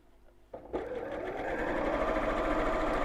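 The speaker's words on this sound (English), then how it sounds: "just sewing along that first crease, you can see there now" A sewing machine stitches along the first crease of bias-cut fabric binding. After a brief quiet start it whirs up to a steady, close, continuous running hum.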